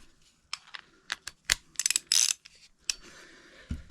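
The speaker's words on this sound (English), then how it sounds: "I got this A702K ratchet, 1/2 inch." A 1/2 inch A702K ratchet gives sharp, irregular clicks and short rapid bursts of pawl ratcheting, heard close up in a quiet room.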